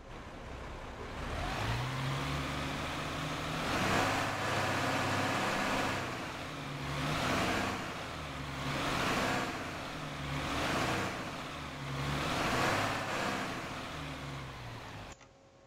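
A Solaris bus engine hums steadily in a driving video game, its drone swelling and easing in slow waves as the bus accelerates and cruises, with no voices.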